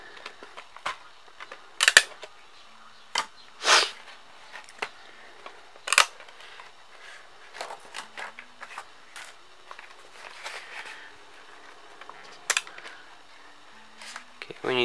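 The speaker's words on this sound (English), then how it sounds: "Okay, taking off the disc." A disc is pulled from a WWE Monday Night War Blu-ray case, with scattered plastic clicks, snaps and handling rustles, some sharper than others, over a quiet background.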